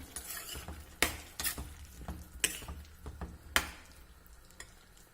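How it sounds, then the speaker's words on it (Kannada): A spoon stirs cooked ash gourd with salt in a pot, giving soft scraping strokes and a few sharp clinks against the metal. A faint sizzle runs underneath. "ಈಗ ಒಂದ್ಸಲ ಇದನ್ನು ಚೆನ್ನಾಗಿ ಮಿಕ್ಸ್ ಮಾಡ್ಕೊಳ್ಳೋಣ"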